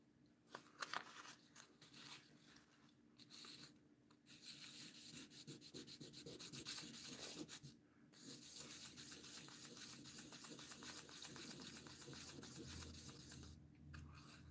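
A knife blade is hand sanded with 1500 grit sandpaper in close, continuous rasping strokes that run in long bursts with a few short pauses between them, no voices.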